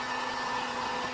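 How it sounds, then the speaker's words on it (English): A big heat gun blows steadily on Kydex sheet, a continuous fan-and-air roar at even, moderate loudness with no talking. "So I'm just gonna use the big heat gun to do this initial part"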